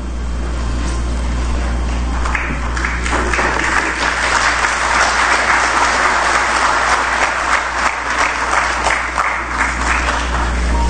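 A large audience at a national congress of Haitian magistrates applauds loudly and steadily, dense clapping swelling after the first couple of seconds over a low hum, with scattered voices in the crowd.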